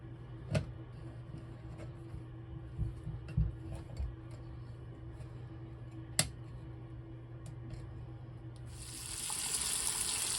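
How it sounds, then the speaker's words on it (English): Water runs steadily from a newly installed pivoting faucet extender, a low constant hiss with a few faint clicks and knocks, brightening into a stronger spray near the end. "I've got the water turned on"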